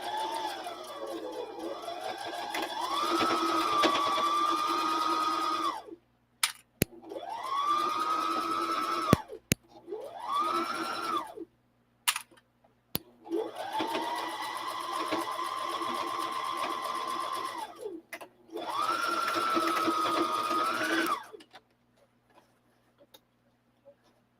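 A sewing machine back stitches a seam tight, running in several long buzzing bursts whose motor pitch rises and falls, separated by short pauses and a few sharp clicks.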